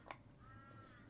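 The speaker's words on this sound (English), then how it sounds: "You hear the crow in the background?" A single short caw from a crow sounds faint and distant in the background, followed by a low steady hum with no talking.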